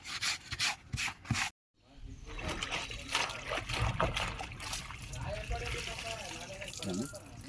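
Cloth is rinsed by hand in a bucket of water, giving wet rubbing, sloshing and splashes with a brief silent gap early on, while someone talks over much of it.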